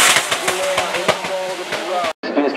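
Denis Bertrand's BMW E46 drift car, full carbon Kevlar body, revs hard at the exit of a corner at the Calmont French drift championship, with rhythmic engine pulses under a commentator's voice before a brief cut.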